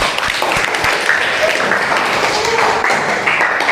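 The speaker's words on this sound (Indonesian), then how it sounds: "Beri aplaus untuk kelompok 4" Classroom applause for a student group at a vocational school, a dense burst of many hands clapping close by that holds steady for a few seconds.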